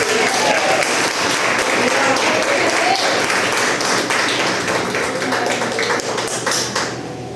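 Dense applause with scattered clapping fills a church service steadily, then begins to thin out near the end.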